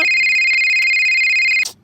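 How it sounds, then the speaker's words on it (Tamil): A mobile phone ringtone in a cartoon rings loud and close as a steady, bright electronic tone with a quick repeating pulse. It plays alone for over a second and a half, then cuts off sharply. "போன் அடிக்குது பாரு."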